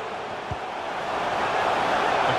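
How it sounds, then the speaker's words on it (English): A football stadium crowd in EA FC 24 roars steadily and swells louder, urging a Tottenham player to shoot during a Premier League match against Crystal Palace. "The crowd urging him to shoot"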